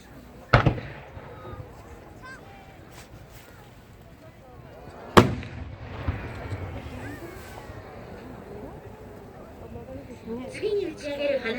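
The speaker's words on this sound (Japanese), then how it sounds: "次に打ち上げる花火玉は柿園花火、白点滅入り残輪青後期です。" A firework shell bursts into a blue peony with a silver ring at its center: two sharp, loud booms a few seconds apart, each followed by fading crackle and rumble, with voices in the background.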